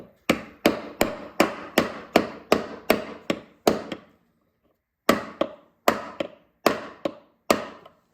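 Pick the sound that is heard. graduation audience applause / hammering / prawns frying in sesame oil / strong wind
hammering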